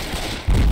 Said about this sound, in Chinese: 哦，那个爆炸声！